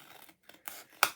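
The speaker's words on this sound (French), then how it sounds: "vous prenez les ciseaux" Scissors cut through small boxes in a few quick snips, the last one sharpest and loudest, in a quiet room with no talking.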